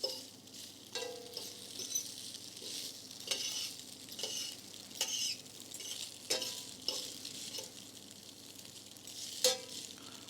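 Spaghetti being tossed and stretched in a pan with olive oil and butter, faint soft sizzling with intermittent scraping and clinking strokes, no talking.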